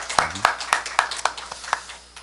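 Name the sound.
congregation clapping in encouragement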